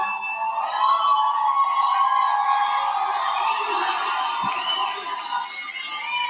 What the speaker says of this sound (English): What an amazing crowd all of you are